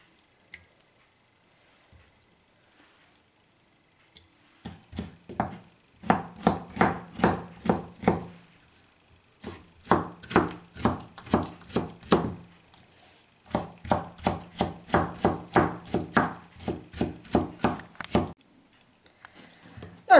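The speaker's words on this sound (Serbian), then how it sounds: "Znači samo ovaj mesnati deo, njega ćete isto sitno seckati." Meat being finely chopped with a knife on a board, quick rhythmic bursts of crisp taps in three runs separated by short pauses, close and clear with no voices.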